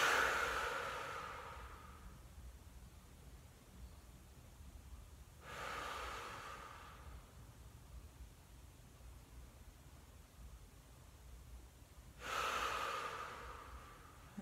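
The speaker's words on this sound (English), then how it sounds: "take those 5 more big breaths" Three deep breaths taken during a yoga session, each a long, airy inhale-exhale swell spaced several seconds apart, close and soft, with quiet room hiss in between and no talking.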